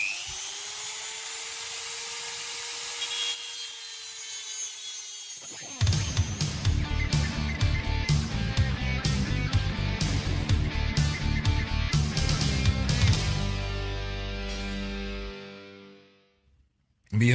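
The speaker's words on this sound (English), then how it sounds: "I'm using a diamond cutting disc on my rotary tool to trim them to length." A rotary tool fitted with a diamond cutting disc whines high as it spins up, then grinds harshly and loudly through stainless steel guitar frets in a continuous buzzing stretch before winding down.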